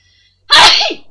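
A single sharp, loud sneeze close to the microphone, bursting out of near silence and trailing off within about half a second.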